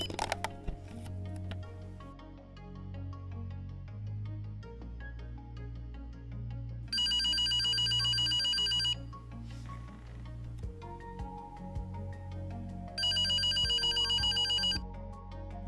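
A Teddy Ruxpin electronic toy telephone rings electronically in two bursts separated by a pause, playing over a background of simple looping electronic music.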